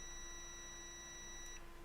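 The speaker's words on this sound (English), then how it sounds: "With the speaker symbol, touch the black and red together." A continuity beep from a multimeter whose red and black probes touch together: a steady electronic tone holding for about a second and a half, then stopping, with a faint steady hum beneath.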